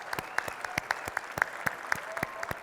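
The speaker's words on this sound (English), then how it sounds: "Let's give those families a round of applause." Scattered, fairly sparse applause at a charity fundraising gala, with individual sharp hand claps standing out over a thin crowd bed, heard close and without talk.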